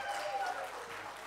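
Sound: audience cheering and applause for Mozambique

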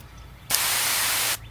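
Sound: water spraying from aluminum Gardenite hose nozzle sprayer

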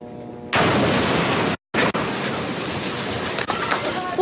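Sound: explosion near Gaza hospital tent area

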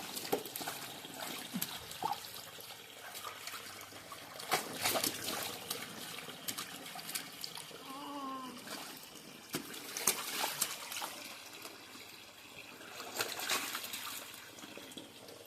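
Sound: water running from a tap while washing clothes

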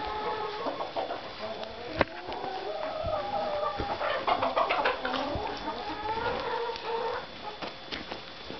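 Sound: chickens clucking

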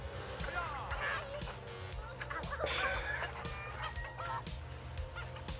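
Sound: chicken coop chickens squawking, South Park Phone Destroyer video game

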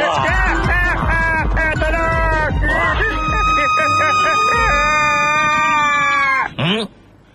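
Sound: person screaming in a Doraemon cartoon

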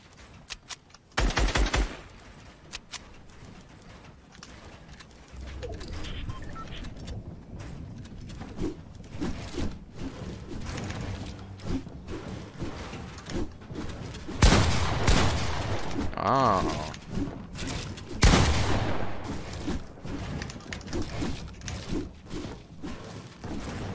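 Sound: gunfire in the video game PUBG

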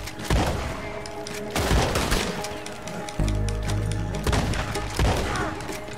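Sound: gunfire in the video game Red Dead Redemption 2

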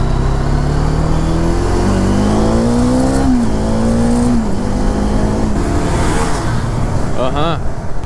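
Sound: Bajaj Dominar 400 motorcycle riding

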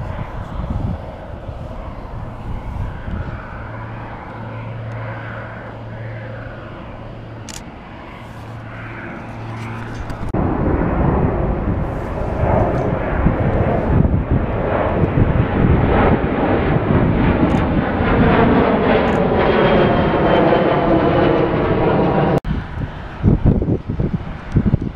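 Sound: two airplanes departing at Kansai airport

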